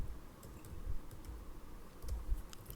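Quiet, close typing of Java code on a computer keyboard, soft irregular key clicks in short runs against a low background hum.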